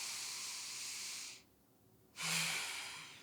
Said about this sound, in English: Start to deepen your breathing.